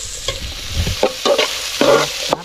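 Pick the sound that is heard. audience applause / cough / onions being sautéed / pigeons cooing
onions being sautéed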